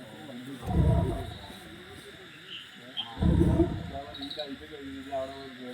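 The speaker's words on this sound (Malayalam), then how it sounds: "വയനാട് കോണിച്ചിറയിൽ വളർത്തുമൃഗങ്ങളെ കൊന്ന കടുവ കൂട്ടിലായി" A captured tiger roars inside a forest department cage in Wayanad, the tiger having killed livestock; two loud, deep roars come close together, with quieter rumbles in between.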